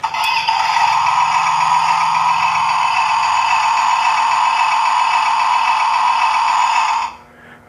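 An Ertl 1/16 IH Farmall 1206 toy tractor plays its electronic engine sound, a loud, tinny, buzzing hum held steadily for about seven seconds before cutting off abruptly.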